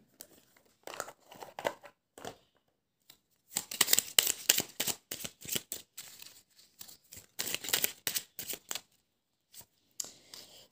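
An angel oracle card is drawn from the deck and laid down: quiet, close bursts of card shuffling and paper rustling, scattered in clusters with silent gaps between.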